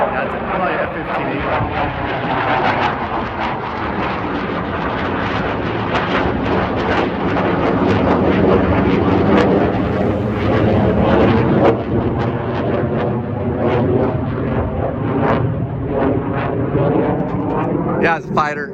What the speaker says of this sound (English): Yeah, it's a fighter jet.